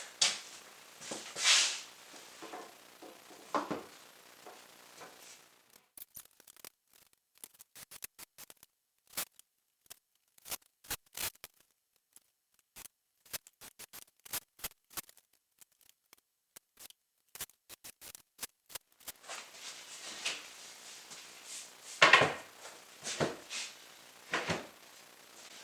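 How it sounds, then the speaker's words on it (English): Cutting the end off an overlong shelf board during a DIY shelf build, heard as a series of short, sharp clicks and snips, sparse in the middle and busier with rustling at the start and end, close and fairly quiet. "I'm just going to cut off the end"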